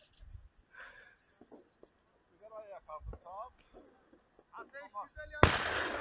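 A shotgun blast from a thrush hunt rings out sharply and loudly near the end, following scattered talk and calls earlier in the clip.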